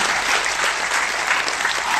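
Audience clapping at a kavi sammelan poetry gathering, a short, loud and continuous burst of many people applauding together, with no speech on top.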